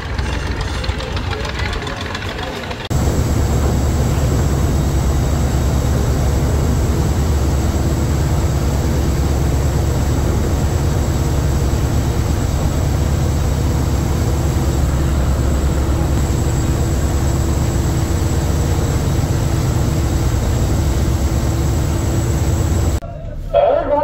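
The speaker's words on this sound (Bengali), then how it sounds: "তো এখন কর্ণফুলী 3 সাইড দিচ্ছে, আর ফারহান নয় লঞ্চ পাশে দিয়ে উঠে যাচ্ছে" Steady low diesel drone of the Farhan-9 passenger launch cruising on a river, a constant heavy rumble with mechanical knocking that runs unbroken for about twenty seconds after a brief quieter start.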